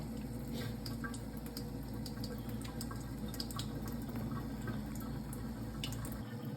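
Water running through a Kangen K8 Enagic water machine during its cleaning cycle, a steady faint hiss of flowing water with soft drips, continuous and even.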